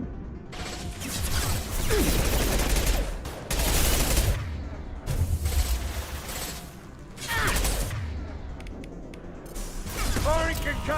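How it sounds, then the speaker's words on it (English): Combat in the video game Mass Effect 2: repeated loud bursts of gunfire and a concussive shot blast, in several heavy volleys separated by brief lulls, with mechanical clatter and voices in between. "Firing concussive shot."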